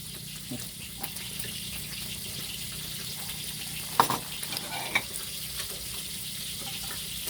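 Pea eggplants frying in a pan with steady sizzling hiss and a few scraping stirs near the middle, close to the mic with no talk.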